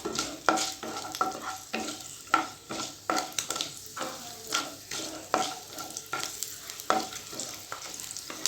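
Garlic cloves frying in hot oil with popped mustard seeds and fenugreek for a curry leaf kulambu, a steady close sizzle broken by repeated spoon stirs and scrapes against the pan.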